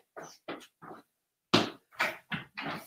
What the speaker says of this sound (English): those dogs and the snoot out there barking